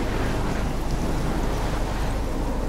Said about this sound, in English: this storm sounds awesome